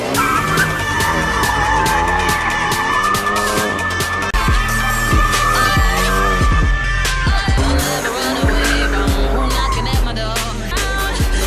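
Race cars skid with squealing tyres on a mountainside road, loud and continuous revving and screeching playing back from a recorded clip, layered with engine roar and no talking.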